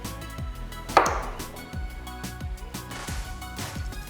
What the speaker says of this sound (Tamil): ஒரே மாதிரி ஈவன் சைஸ் பீசஸை கட் பண்ணிக்கலாம்